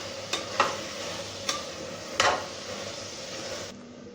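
Soaked dried peas frying in a pan for vaangi bath, with a steady sizzle under four sharp scrapes and knocks of a spatula stirring them, close and fairly loud.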